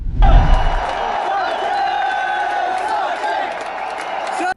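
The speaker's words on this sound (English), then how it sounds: "The Wankhede Stadium echoed with chants of" A large cricket crowd in Mumbai's Wankhede Stadium after India's 2011 World Cup win, a loud, sustained roar of massed voices with a droning chant-like tone running steadily throughout.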